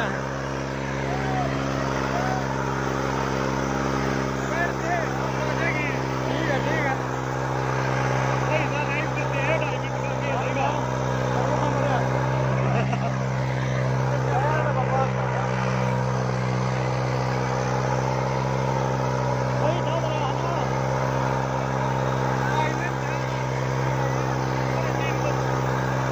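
A New Holland tractor engine runs at a steady idle, a continuous droning hum with strong low harmonics that stays even throughout, with voices faintly talking underneath.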